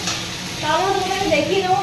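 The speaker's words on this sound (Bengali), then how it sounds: "আমি এখানে মাছ ভাজা করছি" Fish frying in oil in a home kitchen, a soft steady sizzle close by, with a voice talking over it for much of the time.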